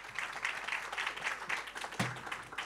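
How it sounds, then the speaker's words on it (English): A conference audience applauds panelists at a European Interreg event. The clapping is faint, roomy and continuous, with one sharper knock near the end. "Now it's time for the applause for our distinguished panelists."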